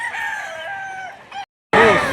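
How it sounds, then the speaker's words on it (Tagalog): Roosters and chickens at a Saturday poultry auction market in Lipa, Batangas, with a loud nearby crow, a brief gap, then another crow. "nandito tayo ngayon sa bintahan ng manok sa Lipa, Batangas"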